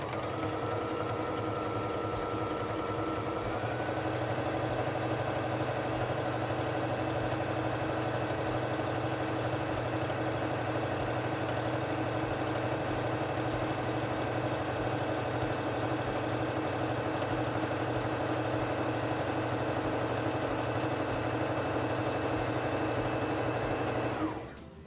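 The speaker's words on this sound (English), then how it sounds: "press on the foot control to begin sewing" A Singer Fashion Mate 3342 sewing machine stitches fabric in one long continuous run. Its motor whirs steadily close by, its pitch steps up slightly a few seconds in, and it stops abruptly at the end. No voices are heard.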